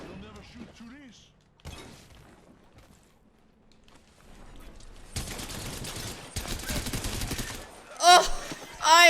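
Rapid bursts of automatic gunfire in a shooter video game, dense and loud in the middle section after quieter moments, with a player talking around it.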